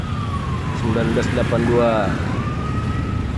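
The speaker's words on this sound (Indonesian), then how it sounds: "ambulan bantuan" An ambulance siren wails as the vehicle arrives with a funeral procession outside a mosque in Martapura, its rising and falling tone heard briefly through street noise while people talk nearby.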